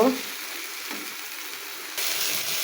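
Tomatoes cooking down with spices in a pan for a bottle gourd and egg curry, a soft steady sizzle that jumps louder near the end, with no talking.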